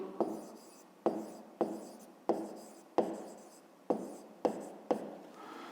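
Pen or marker writing on a board or paper during a fifth-grade maths exercise, a run of eight sharp strokes, each starting with a crisp scratch and trailing off, fairly close and quiet with no talk.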